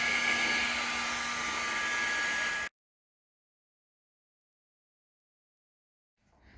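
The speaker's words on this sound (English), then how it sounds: "heating up the DevCon to help it cure a bit faster" A heat gun blows hot air over DevCon epoxy filler on a ZXR turbo motorcycle restoration, a steady close roaring whoosh with a faint tone that cuts off abruptly partway, leaving silence.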